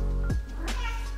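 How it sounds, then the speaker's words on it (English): A house cat gives a single brief meow, close and fairly loud, in a home kitchen over a low background hum. "Please excuse my cat meowing in the background"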